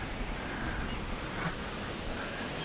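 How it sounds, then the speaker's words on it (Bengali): A small waterfall of snowmelt water near Mangan makes a steady, even rushing roar that fills the scene without pause, heard from close range with no voices. "পুরোটা আওয়াজ যেটা শুনতে পাচ্ছ ওটা পুরো ঝর্ণার আওয়াজ।"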